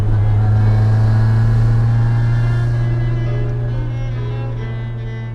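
A car engine running steadily on a dyno, a loud sustained droning roar with strong low harmonics that slowly fades over the final seconds, with no talk.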